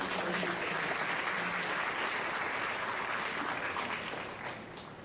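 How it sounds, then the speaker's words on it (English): Audience applause for a student who won the top prize for Best Overall Concept and Design in the K to 2 category at a public school board meeting; steady, dense clapping continues throughout and eases slightly near the end. "Let's give her a big round of applause."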